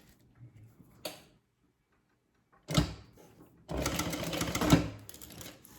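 Industrial sewing machine stitching a handbag, short bursts of rapid mechanical ticking stitches separated by quiet pauses, with a longer run of stitching near the end.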